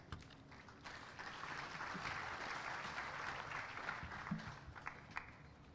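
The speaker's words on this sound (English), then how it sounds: "Another round of applause for Chairman." Audience at a water and sanitation conference in Kenya applauds, a steady wash of many hands clapping at a moderate distance, sustained for several seconds with a few louder claps near the end.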